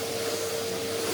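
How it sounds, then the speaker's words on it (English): Household vacuum cleaner running steadily during a quick weekly home clean, a constant close whine with a sharp tonal hum, no talking over it. "you're just getting the worst of vacuuming the worst areas"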